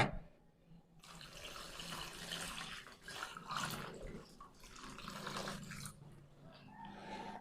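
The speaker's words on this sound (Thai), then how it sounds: "ใส่น้ำเปล่าลงไปล้างเลยนะคะ" Plain water is poured over homemade pickled scallions to wash them, producing continuous soft splashing and running-water sounds at a fairly low level, with no talking.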